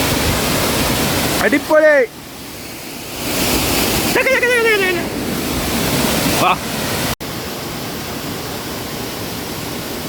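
A steady, broad rushing roar of water fills the whole stretch at a quiet private waterfall near a Kadnkal homestay, with people talking briefly over it partway through.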